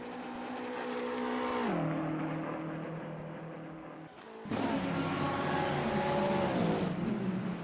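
GT3 race cars, a Mercedes and a Ferrari battling, scream around Spa-Francorchamps in a racing video game, with sustained loud engines shifting through gears, a brief dip, then a surge as another car roars close by.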